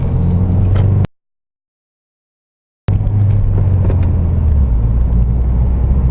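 A stock 2017 Subaru WRX engine and loud exhaust running, a strong low rumble that cuts out abruptly for nearly two seconds, then returns at the same close, steady level.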